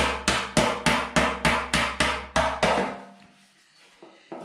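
A hammer strikes the bodywork of a Lambretta GP scooter side panel during repair. About ten sharp metallic blows fall in an even rhythm, each ringing briefly, and then the work stops.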